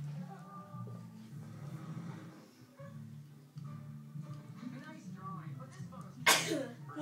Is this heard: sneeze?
yes